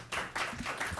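Audience applause at an education policy forum: a short burst of hand claps, several quick claps in a row at close range with no talk.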